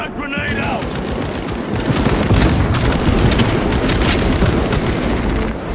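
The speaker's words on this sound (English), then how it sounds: "Frag grenade out!" In Warhammer 40k Space Marine 2, a frag grenade blast and heavy gunfire roar loud and close, with sustained rapid automatic fire and booming impacts continuing throughout.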